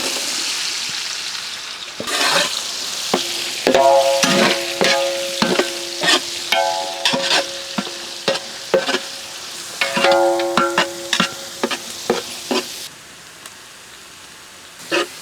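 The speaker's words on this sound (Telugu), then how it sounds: "సన్నగా తరిగిన ఉల్లిపాయ ముక్కలు యాడ్ చేద్దాం." Sliced onions dropped into hot ghee with whole garam masala of cloves, cardamom, cinnamon and shahjeera for a gongura mutton biryani, giving a sizzling fry broken by repeated stirring scrapes and clanks of a spoon against the pan.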